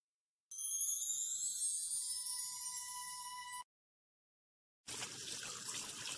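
Tap water runs while a whole four-pound chicken is washed and cleaned out in a kitchen sink: a bright, ringing stream of running water, then after a pause a rougher, louder rush of water, with no talking.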